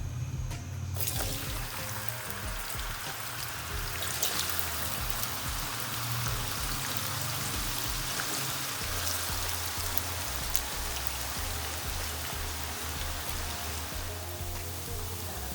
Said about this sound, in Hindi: अब इनको ऑयल में फ्राई करते हैं।